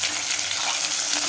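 Onions and curry leaves fry in hot oil with mustard seeds for a kovakkai kulambu, a loud, close, continuous hissing sizzle without pops or voices.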